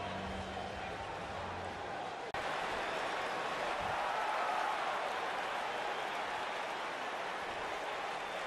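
A wrestling arena crowd in the WWE 2K19 video game keeps up a continuous broad roar of cheering, steady and fairly distant, under commentators' talk.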